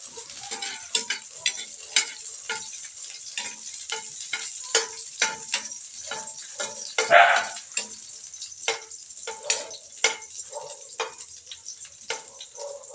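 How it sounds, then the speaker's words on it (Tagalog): Garlic frying in hot cooking oil in a Pangasinan provincial kitchen, a steady crackling sizzle with frequent sharp pops and occasional stirring scrapes. "Mainit na yung mantika mga guys. Unahin natin itong ano, bawang."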